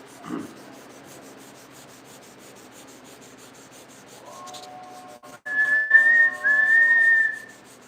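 Guitar finish being sanded with 400 grit sandpaper: a soft, steady rubbing hiss throughout, with a single knock early on and clear whistled tones joining in the second half.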